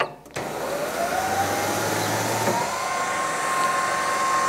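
A steady electric motor whir with a rising whine, continuous and close, as a Toro eFlex Greensmaster 2100 electric reel mower cuts grass.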